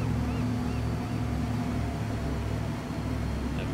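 A boat engine in Teardown drones steadily and loudly as the half-sunk craft churns through water. A continuous low motor hum sits over a wash of splashing, with no pauses.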